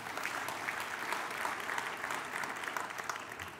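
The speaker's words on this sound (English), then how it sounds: "Let's give them a round of applause again." Steady applause from a church audience, a dense wash of clapping at moderate distance throughout.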